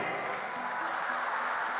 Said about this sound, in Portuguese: Então aplaude com força.